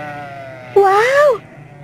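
A sheep bleats once in an open field, a loud, close, wavering cry lasting about half a second over a quiet background hum.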